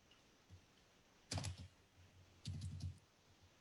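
A password being typed on a computer keyboard, two quick clusters of crisp key clicks close to the microphone with a pause between them, over a quiet background.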